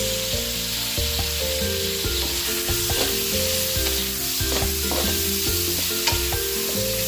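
Carrots and beans stir-frying in a hot pan for chop suey, with a steady close sizzle broken by repeated scraping and stirring strokes of a utensil against the pan.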